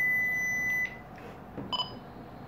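An Icom M93D handheld VHF marine radio sounds its DSC call alert, a loud continuous electronic tone that stops partway through, followed by a few softer short beeps.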